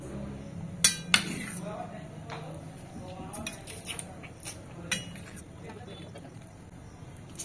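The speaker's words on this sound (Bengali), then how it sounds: "এবার এই সমস্ত উপকরণগুলো ভালো করে মিক্স করে নেব।" Chicken marinade with pepper powder is mixed in a bowl. A spoon clinks against the dish a few times, loudest early on, then gives softer scrapes and taps close by, with a person talking over it.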